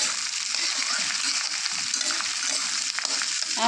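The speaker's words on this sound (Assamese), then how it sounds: "এতিয়া ইয়াতে দিম মই এয়া জ্বলা, কাটি থোৱা জ্বলাখিনি দি দিছোঁ।" Chopped chillies sizzle in a hot pan for an instant chilli pickle, a steady, dense crackling hiss that fills the whole stretch up close, with no voices.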